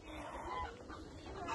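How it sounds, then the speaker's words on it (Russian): Geese at a zoo giving low, faint honking clucks and calls, a murky muffled sound against steady background noise. "Гуси, гуси."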